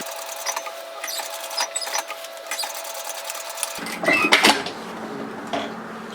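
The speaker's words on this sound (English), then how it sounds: "I'm just going to stitch this down flat" Sewing machine stitching a seam flat on a yoke sweater, a steady rapid mechanical whir with faint rhythmic needle clatter, close and alone, with a brief burst of louder rattling near the end.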